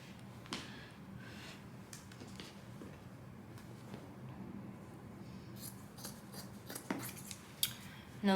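Scissors snip through daybed upholstery fabric in quiet, sharp close cuts, scattered and irregular, with no voices.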